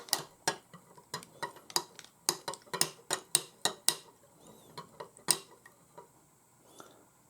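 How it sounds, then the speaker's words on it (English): A spoon clinking against a container while stirring soy yogurt mixed with BB536 bifidobacteria, a quick irregular series of sharp taps and scrapes, fairly quiet and close, with no voices. "I put Bifidobacteria, this one BB536, like that, and then I just mix it with a spoon."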